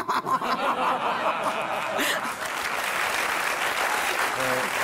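A theatre audience breaks into sustained applause, a dense wash of clapping mixed with chuckles and scattered laughter, loud and continuous throughout.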